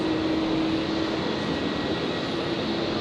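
A Qantas Boeing 787 Dreamliner jet takes off from runway 01 right at Brisbane International Airport, giving a steady, loud broadband engine roar with a low hum that holds throughout, and no voices.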